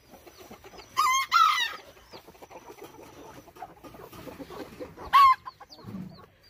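A hen lets out loud, squawking clucks in two bursts, with softer peeps from her chicks and rustling between them, close by.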